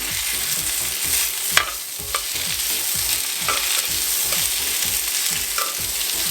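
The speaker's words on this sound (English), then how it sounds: "I'm gonna put the rest of that garlic right there on my vegetables" Garlic and vegetables sizzle steadily in a pan, with repeated scraping stir strokes in a regular rhythm and a broad crackling hiss, close and fairly loud throughout, no talking.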